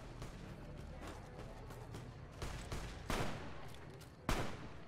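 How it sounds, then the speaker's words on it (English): Gunfire rings out in Fallout: New Vegas, a steady background of scattered shots building to several sharper, louder bursts near the end, with no voices over it. "They're shooting at something."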